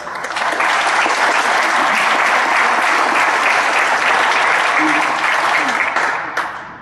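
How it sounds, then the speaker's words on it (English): Loud, sustained applause from a large conference audience for a futurists panel, steady clapping that swells quickly and fades out at the end. "let's give a round of applause to our Futurists"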